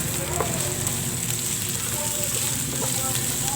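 Garlic, onion and ginger sauté in a hot pan for a chicken dish with bottle gourd and bean sprouts, giving a steady, close, dense sizzle with occasional faint stirring clinks.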